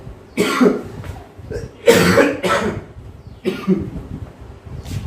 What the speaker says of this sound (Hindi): बेवजह खांसी आ रही है